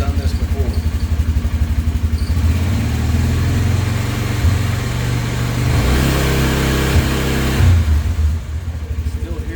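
Polaris 570 EFI engine idling unevenly near 1400 rpm with audible hesitation, a steady close low throb that dips and surges in places, with a person talking over it.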